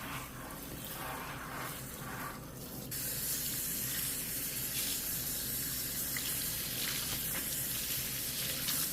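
Steady, close rush of cool tap water pouring over a curly wig in a sink as it is rinsed, growing fuller and louder partway through and then holding constant.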